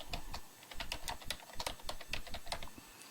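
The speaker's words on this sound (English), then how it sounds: "I can just click Enter after this question and begin typing my answer" Fingers type on a computer keyboard, a close, quiet run of irregular key clicks in quick bursts with brief pauses, with no talking.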